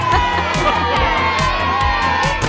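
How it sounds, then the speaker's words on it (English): In a Peppa Pig cartoon, children shout with excitement after a goal, a loud, dense burst of cheering and whooping voices that carries on without pause for the whole moment. "Peppa and George shouted with excitement."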